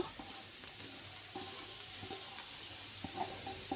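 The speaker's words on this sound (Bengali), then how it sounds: "খালি গাজরগুলোকে আমি এভাবে নাড়তে থাকবো যাতে নিচে দিয়ে মানে লেগে না ওঠে" Grated carrots stirred in a pan for carrot halwa, with a soft continuous sizzle and faint scraping strokes of the spoon at a steady, unhurried pace, close and moderately quiet.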